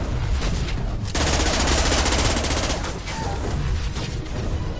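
Gunfire during a Mass Effect 2 combat fight, a loud, sustained barrage of rapid automatic shots that hammers on steadily for several seconds with no pause and no talking.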